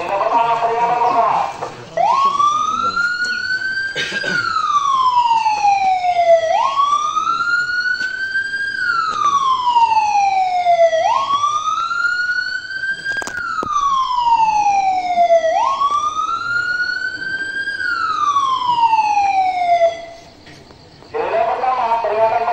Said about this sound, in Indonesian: silakan berikan sirine pertama, peringatan pertama